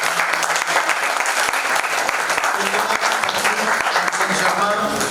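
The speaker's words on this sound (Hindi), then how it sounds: "एक बार जोरदार ताली स्वागत करिए।" Audience applause at a Hindi stage play in Lucknow, loud sustained clapping from a crowd filling the whole stretch, with a voice faintly audible beneath it.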